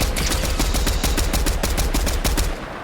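Rapid bursts of automatic gunfire in Fortnite Zero Build crack out in a fast, regular rhythm, loud and sustained, then cut off near the end.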